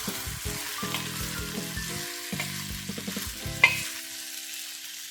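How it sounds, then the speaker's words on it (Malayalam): Wheat sautés in hot ghee for a Kerala-style wheat pradhaman, a steady close sizzle broken by repeated scraping stirs and one sharp clink of the spoon against the pan, with no talking. "ഇനി ഇതിലേക്ക് നമ്മുടെ ഗോതമ്പ് ഇടാം. നെയ്യിൽ ചെറുതായിട്ടൊന്ന് വഴറ്റാം."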